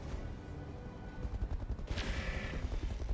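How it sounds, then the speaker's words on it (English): A Hussar mech in the game RogueTech fires its weapons at a vehicle, a run of rapid, punchy low thuds and bursts, fairly loud and close, with a brighter hissing impact in the middle and no talk. "the Hussar firing on this vehicle, not killing it yet"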